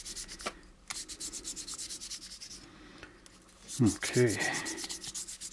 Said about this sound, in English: I'm just going to take my fine sandpaper and just sand this out a little